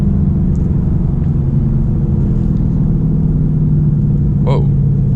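A 2022 Ford Mustang GT V8 drives on a sunny road, its engine a loud, steady, low rumble from inside the cabin, with a brief voice sound near the end.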